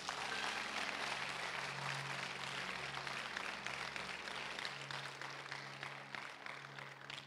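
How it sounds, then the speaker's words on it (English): Church congregation clapping hands during a cathedral worship service, a dense steady wash of many hands lasting throughout, with a low sustained tone underneath and no talk. "Clap your hands."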